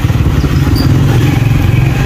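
Motorcycle engine running steadily and close, a continuous low rumble with rapid clatter while riding through a market area; no talk.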